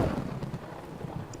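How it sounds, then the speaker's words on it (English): Thunder rolls on a stormy night as a low, uneven rumble with rain-like hiss, moderately loud and close, with no voices over it. "Tonight's show, on this stormy night, which is meant to improve. The thunder we think is easing off."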